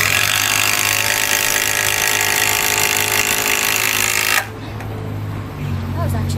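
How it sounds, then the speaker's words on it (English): A loud, steady mechanical whine of a running power tool for about four seconds, then it cuts off, leaving quieter background noise with faint voices. "She handles that drill like a pro,"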